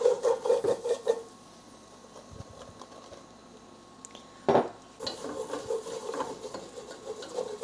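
A spoon or whisk scraping and clinking against a pan while flour is stirred in for a Thanksgiving dish, rhythmic close metallic rubbing in bursts with a quieter pause in the middle.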